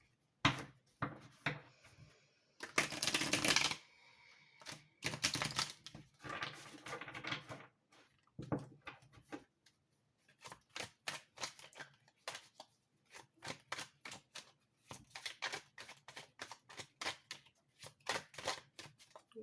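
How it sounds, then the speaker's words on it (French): Tarot cards being reshuffled by hand: a few long riffling bursts early on, then many quick, crisp card flicks in an uneven rhythm, close and fairly quiet with no voices. "Je rebrasse les cartes."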